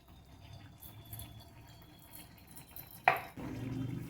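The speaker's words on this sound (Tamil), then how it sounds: "அடுப்பில் ஒரு வடைச்சட்டி வச்சு தேங்காய் எண்ணெய் ஊற்றிக்கலாம்." Coconut oil is poured into a kadai on a stove: after faint background clatter, a brief splash hits the pan, followed by a steady, soft pouring trickle that continues to the end.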